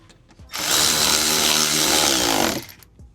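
A power tool tightening screws on a BMW G80 M3 fender liner whirs loudly in a single two-second burst, starting abruptly and cutting off, with quiet surroundings before and after.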